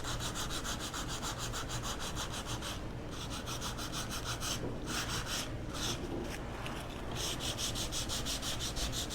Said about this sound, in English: Let's sand this down here.